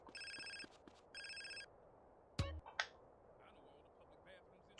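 A telephone rings in Grand Theft Auto San Andreas: two bursts of a bright electronic trill in a double-ring rhythm, followed by a clunk as it is picked up and brief quiet sounds.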